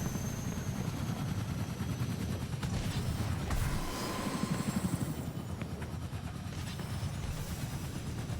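A helicopter in the video game Fortnite, heard as a continuous low rotor chop with some sharp bursts of in-game gunfire over it, steady and moderately loud with no talking.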